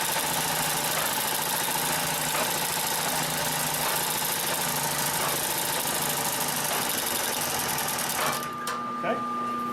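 Consew 744R-30 long arm walking foot sewing machine stitching marine fabric, a steady loud mechanical whir with rapid needle knocking throughout, stopping abruptly near the end.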